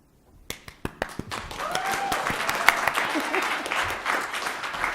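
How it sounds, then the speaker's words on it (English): An audience breaks into a round of applause welcoming speakers at an event, starting with a few sharp separate claps that swell into sustained, fairly close clapping from a crowd, with faint voices mixed in. "May we welcome them with warmth in our hearts and with a resounding round of applause."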